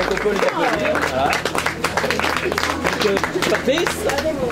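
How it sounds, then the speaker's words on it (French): An audience at a club inauguration applauds the board members, with dense, continuous clapping mixed with crowd chatter and voices throughout. "donc on peut les applaudir"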